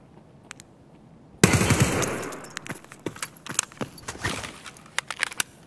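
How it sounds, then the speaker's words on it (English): A sudden loud burst of gunfire in Escape from Tarkov, followed by scattered sharp shots and clicks fading into a tense, quieter background. "I shot him."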